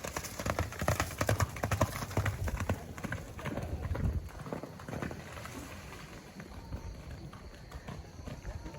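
Hooves pound on dirt as a bull and horses gallop during a vaquejada, rapid irregular thuds that are strong at first and then fade as the animals move away, with crowd noise and distant voices underneath.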